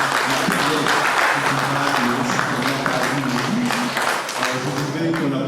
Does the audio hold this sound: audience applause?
yes